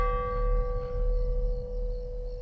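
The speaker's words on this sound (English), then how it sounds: "The bell invites me." A single church bell tolls as a stage effect in a theatre production of Macbeth, one steady sustained ring with long humming overtones held loud and close throughout, no voices over it.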